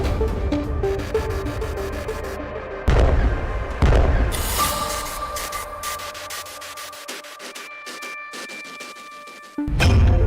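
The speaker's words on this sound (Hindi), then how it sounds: "ईरान ने लॉन्च कर दी इंटरकॉन्टिनेंटल मिसाइल।" Iranian intercontinental missile launch: a loud, sustained roaring rumble broken by several sharp booming blasts, dense and close, then cutting out abruptly before a final burst of roar.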